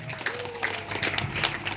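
A church congregation claps during a sermon, producing a short patter of scattered hand claps mixed with a voice talking over them.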